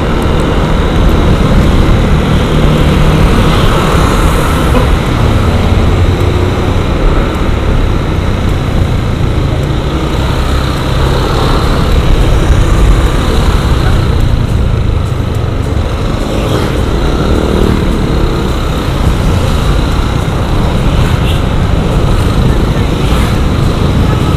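A 2019 Yamaha Aerox scooter's engine gives a loud, steady drone with wind-like rumble throughout, and someone speaks over it.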